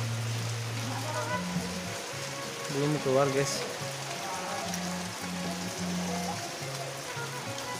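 Steady rain with wind hisses over a dim daytime courtyard at an Islamic boarding school, a continuous broadband wash under music, with a voice speaking briefly.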